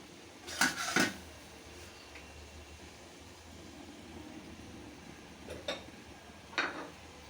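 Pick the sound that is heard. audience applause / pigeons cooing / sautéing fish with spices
sautéing fish with spices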